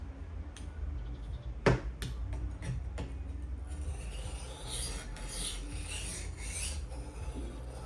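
A knife being drawn across a portable knockoff sharpener: a few sharp ticks and one louder jerky scrape, then a run of soft rasping strokes, all close over a low steady hum, with no talk.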